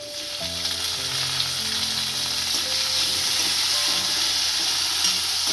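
Chopped tomato drops into a hot pan for a spinach and moong dal curry, and a loud steady sizzle of frying continues throughout with faint stirring noises, no talk.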